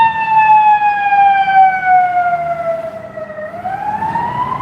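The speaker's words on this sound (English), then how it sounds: "Here comes a fire engine." A fire engine siren wails loudly as it passes along a Chicago street, a sustained tone sliding downward and then climbing again, with faint traffic noise beneath.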